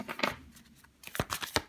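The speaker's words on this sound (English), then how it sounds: "they want me to shuffle it again" Tarot cards being shuffled again by hand, a quick papery riffle and slide in two bursts with a brief lull between, close and fairly soft.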